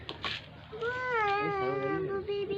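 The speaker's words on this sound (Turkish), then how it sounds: "Anne yabancı kedi geldi." A stray cat gives one long, wavering meow close by, following brief rustling, with no talk during the call.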